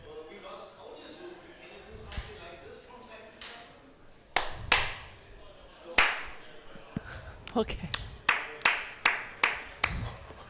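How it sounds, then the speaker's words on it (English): Clapping at an underwater rugby tournament, the Champions Cup in Berlin: scattered early claps and a brief spoken word give way to a run of sharp, evenly spaced loud claps, a few hands beating together in rhythm. "Applauding to all the teams here in the Champions Cup."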